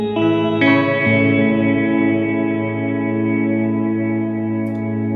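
Electric guitar chords ring out through reverb and a hold pedal run in parallel, sustaining into a shimmering, effect-laden wash that lingers and slowly decays.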